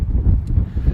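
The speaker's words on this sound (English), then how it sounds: "it's getting quite windy now" Steady wind buffets the microphone on the Dorset coast at Chapman's Pool with a low rumbling roar that persists throughout, and no voices can be heard.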